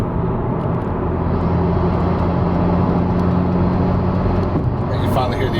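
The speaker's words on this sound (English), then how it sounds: "And you finally hear the exhaust kick up a little bit." A car fitted with a Greddy cat-back exhaust drones loudly from the cabin as it accelerates, holding a steady low exhaust hum that rises slightly near the end.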